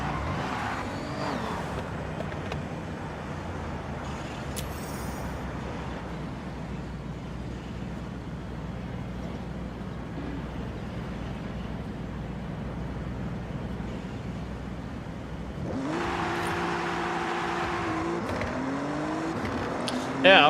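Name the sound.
Alfa Romeo car driving in Forza Horizon video game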